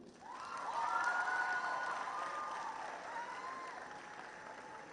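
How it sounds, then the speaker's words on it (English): An audience at a Nigerian Model United Nations conference applauds a school delegate, fairly quiet clapping mixed with a drawn-out cheering or whooping voice that rises early and fades by the end. "A round of applause for Chikwendu Akunaya"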